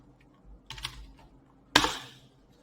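Typing on a computer keyboard: two short clusters of crisp key taps, the second sharper and louder, close and alone against a quiet background.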